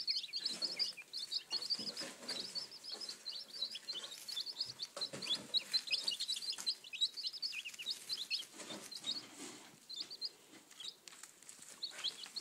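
Newly arrived Red Sex Link and Brown Leghorn chicks peep constantly in shrill, overlapping chirps, close by, with soft rustling and shuffling among them.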